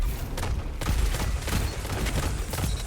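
Rapid gunfire from a weapon in the video game Destiny, dense overlapping shots crackling continuously throughout without pause.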